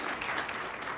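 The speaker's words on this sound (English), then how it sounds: "let's give her a round of applause" Brief, soft applause at a 2018 spring client seminar for a colleague who just passed the bar, steady clapping from a modest audience.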